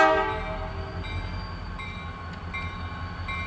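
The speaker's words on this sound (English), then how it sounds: "This train is headed onto the Brewster sub that leads down to New Wales, Bradley, Brewster," A CSX freight train with slug units sounds its horn in a long loud blast that fades, followed by shorter horn notes over a low rumble of the passing train.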